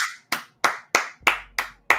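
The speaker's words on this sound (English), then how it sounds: "What are you clapping for?" Seven sharp hand claps land at an even, steady pace, each crisp and close, with brief silence between them and no voices.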